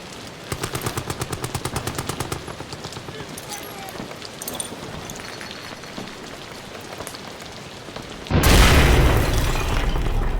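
A rapid, rhythmic burst of gunfire rattles in the video game Amnesia: The Bunker, followed by a sudden loud, close grenade explosion that leaves a heavy rumbling roar.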